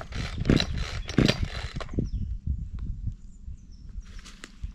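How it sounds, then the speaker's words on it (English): A chainsaw fitted with a new chain is pull-started twice in quick, loud rasping bursts, then sputters and coughs in short, uneven pops without settling into a steady run. "I'm trying to turn on the chainsaw."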